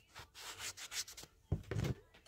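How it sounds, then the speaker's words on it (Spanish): Coarse sandpaper scrubs a shoe sole in quick back-and-forth strokes, a rough, close, rasping sound with short pauses between passes and no talking. "Cuesta lijarla. Tiene que ser una lija gruesa."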